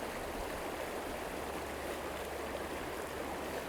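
The current of the Elliðaár river rushes steadily, a dense, even wash of water noise with no breaks, close and fairly loud.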